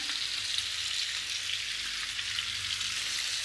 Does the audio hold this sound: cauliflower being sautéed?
yes